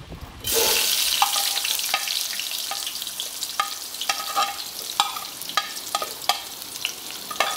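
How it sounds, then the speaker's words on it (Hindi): Chopped onions frying in hot oil, a steady loud sizzle throughout with a series of sharp stirring scrapes and clicks of a utensil against the pan, recurring every half second or so. "ऑयल हमारा गर्म हो चुका है और ये ऑनियन मैंने छोटे पीसेस में काट लिए हैं। पहले मैं इनको ब्राउन करूँगी इसमें।"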